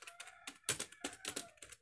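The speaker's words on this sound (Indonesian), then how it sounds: "Nah, bisa kita lihat ini bunyinya." Fingers typing on an NYK K-02 gaming keyboard, a quick close run of soft clacking keystrokes in an irregular rhythm, fairly quiet with no voice.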